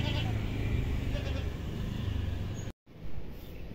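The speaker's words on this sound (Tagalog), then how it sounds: "Ayan yung mga kambing dito guys" Goats bleat by a roadside, short calls over steady low traffic rumble and outdoor noise, with a brief dropout before the ambience resumes.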